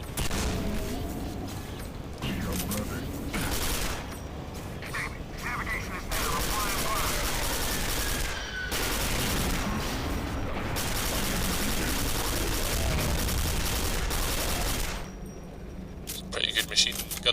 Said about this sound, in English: Machine gun work, if I may say so.